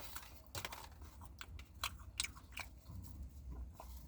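Someone inside a car is biting and chewing a homemade donut. The crunching and mouth sounds are soft, close and intermittent, and no one talks.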